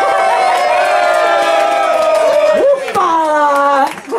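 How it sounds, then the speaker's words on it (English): An excited audience at a homebrewers' glass competition roars with cheers and drawn-out shouts, clapping mixed underneath, fading slightly near the end. "And applause for my brother Dan."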